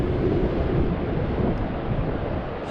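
Strong wind buffets the microphone during a DJI Mavic Mini drone flight over water, a loud continuous low rumbling roar that persists steadily throughout without speech.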